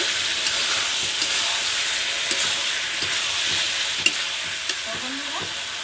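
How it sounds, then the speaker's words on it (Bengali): Chicken curry sautés in a pan while a spatula stirs it, giving a continuous close sizzle broken by regular scraping strokes and a few sharper clacks. "দেখো এইভাবে কি সুন্দর করে কষাতে শুরু করছে বন্ধুরা"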